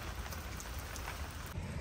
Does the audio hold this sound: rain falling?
yes